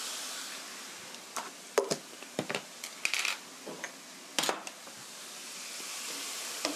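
Pork stir-frying with soy sauce in a pan for a rice bowl, a soft steady sizzle broken by sharp clinks and scrapes of a utensil against the pan in irregular bursts.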